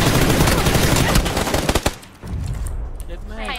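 Heavy, close gunfire from an SLR rifle in a shooting game pounds steadily, then thins into a few separate shots and fades into quieter game ambience, with voices talking over it.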